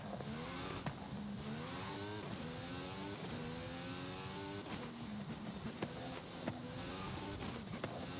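A race car engine in Forza Horizon 5 at Eagle Forest Raceway: the engine revs up repeatedly with gear shifts, its pitch climbing and dropping in steady waves, loud and continuous with no talk.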